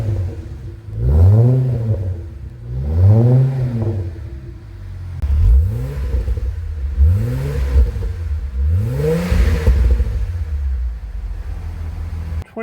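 A VY Commodore Series 2 engine with a resonator exhaust revs up and drops back five times in a row, each sweep a deep throaty roar with a resonant exhaust drone, close and loud.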